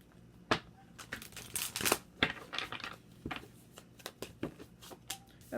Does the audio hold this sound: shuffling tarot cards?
yes